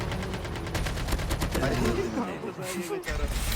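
Rapid bursts of automatic gunfire from a Call of Duty Mobile battle royale match, steady and fairly loud throughout, with game sounds and a voice mixed in the background.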